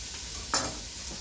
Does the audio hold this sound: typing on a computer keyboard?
no